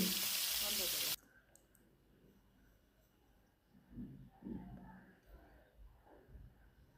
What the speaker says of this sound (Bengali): মাছটা একটু ভেজে দিচ্ছি ফার্স্টে